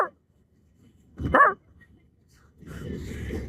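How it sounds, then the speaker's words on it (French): A short burst of dog barking rings out at a moderate distance, with quiet background before it and low rumbling noise afterward. "T'as entendu le chien?"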